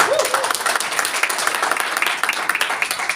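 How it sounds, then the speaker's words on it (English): A business presentation audience breaks into a dense round of applause, many hands clapping at once, fairly loud and close, with a voice briefly audible at the start. "give a round of applause for yourself"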